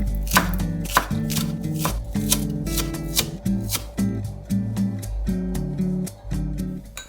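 A knife chops spring onion on a board in quick, crisp strokes, closely spaced taps coming in rhythmic bursts with short pauses, near and clear with no talking.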